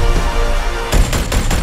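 Gunfire in a movie trailer: a loud burst of several rapid shots in quick succession, close and sharp, following a stretch of dense booming score.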